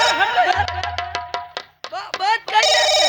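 Telephone ringtone from a stage telephone in a nautanki folk theatre performance, a bright repeating electronic ring heard close and clear, with performers talking and laughing over and between the rings.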